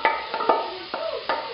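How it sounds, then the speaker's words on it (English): A spatula sautés shrimp and squid in squid ink pasta sauce in a pan, making about four quick, close scraping strokes. "And then you will continue to saute it together."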